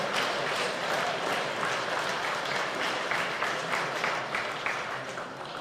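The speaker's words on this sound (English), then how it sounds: "Please give them a big round of applause to all breeders, exhibitors and time of effort they've put into here." Sustained audience applause at a livestock show for breeders and exhibitors at the Emerald Expo, Virginia Show Centre: dense, steady clapping from a crowd filling the hall, loud throughout and easing off slightly at the end.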